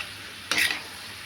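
A single short scrape of a utensil stirring spinach frying in a pan, a brief sizzling rasp against a quiet background.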